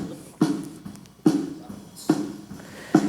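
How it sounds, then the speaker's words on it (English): A snare drum heard through its bottom microphone during a church audio workshop practice mix, struck four times at a steady pace, each hit loud and close with a buzzy wire rattle that trails off before the next. "about snare bottom mics is you want to hear the rattle"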